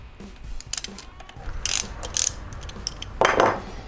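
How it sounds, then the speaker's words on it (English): A hand ratchet clicks in short bursts, close up, as the bolts of the cam chain tensioner come off a Kawasaki Vulcan 750 motorcycle engine in a workshop. "Let's take the cam chain tensioner off."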